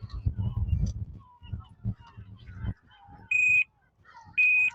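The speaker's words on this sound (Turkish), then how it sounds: "Alarmı çalıştıralım. Yani motor hareket ettirildiğinde alarm çalışacak." Speech-like sounds and handling noise give way to two loud, steady electronic alarm tones from a Zontes ZT200-C motorcycle alarm, each about half a second, sounding close with a short gap between.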